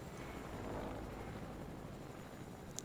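A helicopter in a video game drones steadily throughout with a continuous rotor and engine roar, loud and constant, and no one speaks.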